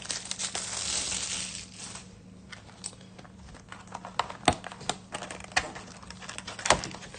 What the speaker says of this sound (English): Cut open the casing here.